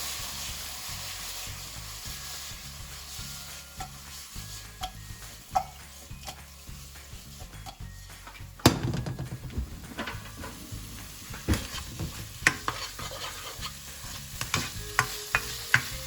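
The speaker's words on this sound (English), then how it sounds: "Just give it a nice stir." Prawns chilli dry, a restaurant-style Indo-Chinese starter, stirred in a hot pan with vegetables: a steady close sizzle broken by scraping stir strokes and sharp clinks of the utensil.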